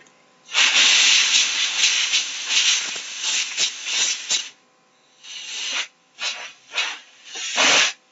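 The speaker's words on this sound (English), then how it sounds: "So I just freeze sprayed the area to cool it down." Freeze spray hisses onto a hot circuit board in several sharp bursts: one long spray, then a string of shorter blasts with brief silent gaps between them.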